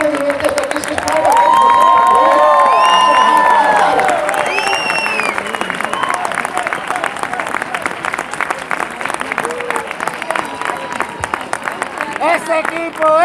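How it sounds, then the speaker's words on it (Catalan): A crowd at a youth football team presentation in Premià de Mar bursts into loud applause and cheering with children's shouts, holding a steady roar of clapping for over ten seconds, with voices calling out on top. "Que se sentin els aplaudiments des d'aquí, sisplau."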